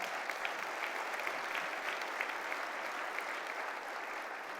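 A large crowd at an MLK holiday breakfast applauds, a dense and even roar of many hands clapping that holds steady at a distance.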